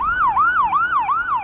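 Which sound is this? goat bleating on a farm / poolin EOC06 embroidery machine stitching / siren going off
siren going off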